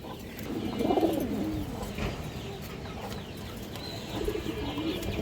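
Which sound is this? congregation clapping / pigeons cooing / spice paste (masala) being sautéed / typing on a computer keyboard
pigeons cooing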